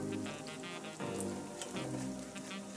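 Water spinach (kangkung) fries in hot oil with a soft, steady crackling sizzle full of tiny pops, fairly faint and uninterrupted by speech.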